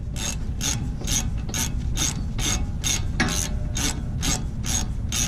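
A ratchet clicks in a steady rhythm, about a dozen quick strokes, while tightening a brake caliper bolt on a Ford Mustang during a brake pad and rotor job, close and clear with no speech.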